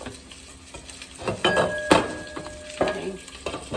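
Charro beans made with Busch's pinto beans sizzle and fry in a pot while being stirred, with soft scraping and a few clinks of a utensil against the pot, close and moderately loud.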